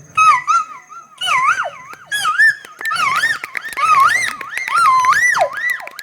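A person's voice imitates the call of the Vishu bird, the Indian cuckoo, with loud, close whistled phrases that rise and fall in repeated wavering bursts separated by short gaps.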